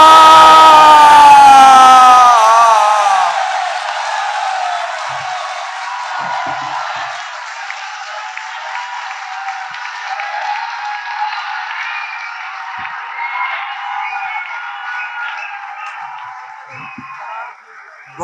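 A mushaira audience in Lahore applauds and cheers, a loud sustained wave of clapping and shouts that carries on for many seconds after a voice on a microphone, slowly fading toward the end.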